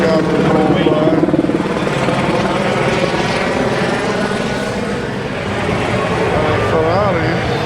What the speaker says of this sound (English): Helicopter rolled by.